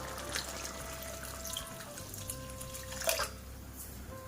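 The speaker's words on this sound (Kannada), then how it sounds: "ನಮಗೆ ತಿಕ್ನೆಸ್ ಎಷ್ಟು ಬೇಕು ಅಷ್ಟು ನೀರು ಹಾಕ್ಕೊಳ್ಳೋಣ" Water poured into a pot of instant tomato dal sambar to thin it, a soft trickling splash with faint clinks, quiet and close with no talking.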